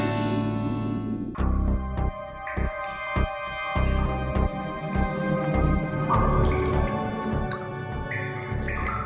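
Water drips inside a cave, with scattered sharp drops falling at an uneven pace over a steady tonal, humming background.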